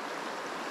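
A river rushing steadily, a broad even hiss of flowing water with no breaks, close and constant throughout the short moment, with no voices.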